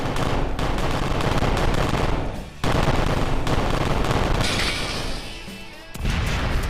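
Turret gunfire in the Kerbal Space Program video game rattles in dense, loud bursts with crashing impacts, briefly pausing before resuming.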